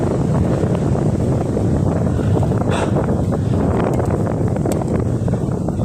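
Steady, loud wind roar buffeting the microphone throughout, broadband and continuous, from a headwind on a solo night motorbike ride, with no voices over it.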